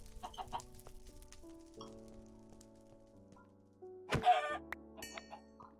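A chicken in a Minecraft-style modded game clucks in a few short, sharp bursts over a quiet background of low droning tones, with one louder cluck midway through.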